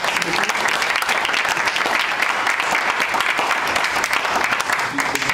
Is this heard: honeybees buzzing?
no